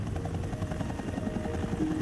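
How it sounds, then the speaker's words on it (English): An emergency rescue helicopter thumps steadily with a continuous rotor chop and engine drone, loud and close throughout, with no talking. "radios for an emergency helicopter"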